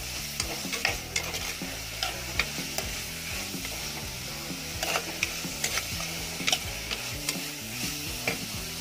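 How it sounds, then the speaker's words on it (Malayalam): Chopped onions are stirred in a hot pan, a steady sizzle of frying under a run of repeated scraping strokes from the spoon, close and continuous throughout. "ഇനി നമുക്ക് ഇതൊന്ന് നല്ലോണം ഒന്ന് മിക്സ് ചെയ്ത് കൊടുക്കാം"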